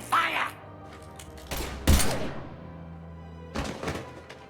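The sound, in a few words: gunfire in the Mass Effect 3 video game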